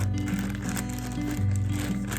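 A plastic bag crinkles and rustles steadily as a damp, folded item is pushed inside it, close by, with a low steady hum underneath.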